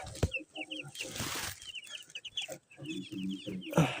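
Broiler chickens in a small flock of about twenty, clucking close by in quick, overlapping bursts, with a brief flutter and a couple of louder knocks at the start and end.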